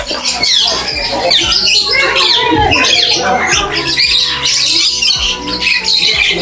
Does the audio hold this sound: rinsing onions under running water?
no